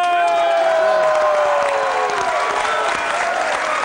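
A television studio audience at a sports talk show applauds and cheers loudly and steadily, with whoops rising over sustained clapping throughout.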